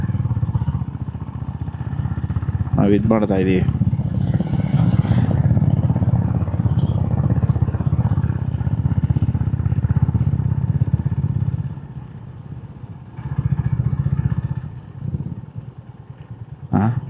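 A touring motorcycle on a hill road ride to Kailasagiri, its engine droning steadily and loudly close by for most of the ride before easing off, with a brief clatter and a voice talking over it.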